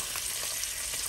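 Bacon, including turkey bacon, frying in a pan at breakfast, a dense, bright, continuous sizzle that stays loud and even from start to finish.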